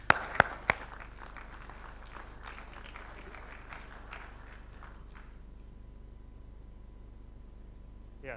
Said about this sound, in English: please give a big round of applause to Max